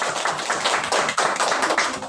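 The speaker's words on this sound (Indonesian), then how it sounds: "Tepuk tangan buat kita semua." A group of students claps together in a classroom at an Islamic boarding school, a dense, fast burst of hand claps that is close and loud and lasts about two seconds.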